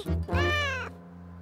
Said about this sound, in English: And Cuddles is Susie's cat.